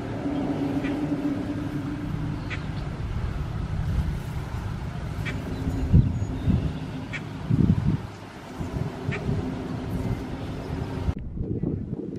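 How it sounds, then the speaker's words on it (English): Faint, sparse duck quacks sound at intervals over a low outdoor rumble of wind and distant engine noise. "Maybe it's ducks I hear."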